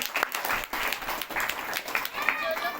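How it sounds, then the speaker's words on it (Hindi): A congregation at a Hindi Christian healing service gives a round of clapping, uneven and fairly close, with voices speaking over the applause. "इसलिए आप लोग तेज ताली के साथ धन्यवाद दीजिए"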